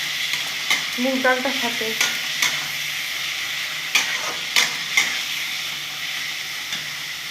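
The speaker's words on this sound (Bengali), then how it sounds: "ভালো করে ভেজে নেব" Chopped pointed gourd (potol) with moong dal fries in a hot pan, giving a steady sizzle broken by scraping stir strokes and a few sharp clanks, with a short spoken phrase early on.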